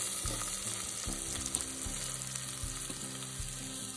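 Tomato goes into a pan of frying onion, turmeric and spices, and a steady sizzle carries close and unbroken, with low clatter and knocks of stirring underneath.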